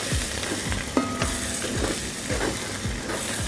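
Nine dry spices and seasonings for a chickpea beef shank stew roast in a pan, giving a constant sizzle under repeated scraping strokes of a stirring utensil, close and fairly loud.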